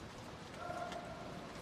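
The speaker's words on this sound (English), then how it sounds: "It is raining." Rain falling outdoors in Nassau, Bahamas, at a live news location with an umbrella, a soft, even hiss of drops with no voices.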